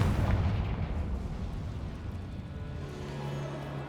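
A Confringo spell explosion in the Hogwarts Legacy video game, a loud booming blast at the start that rumbles and fades into low sustained rumble, with no speech.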